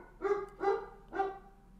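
A dog barks three times in quick succession, sharp and fairly close, with short gaps between each bark and quiet background otherwise.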